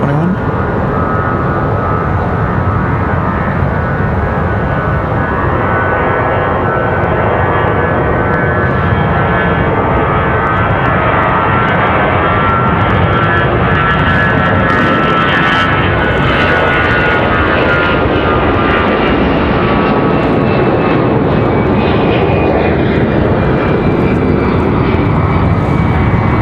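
An Airbus A321 jet departing from Raleigh-Durham airport, a loud continuous engine roar with broad rumble and whining tones that stays strong and steady throughout, no voices.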